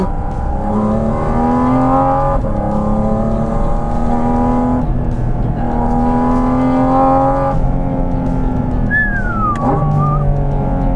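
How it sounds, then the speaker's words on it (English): A Porsche 718 Cayman GT4 RS engine roars steadily in manual mode, its revs climbing and falling through gear changes, then blips sharply on a downshift near the end. "Listen to that downshift."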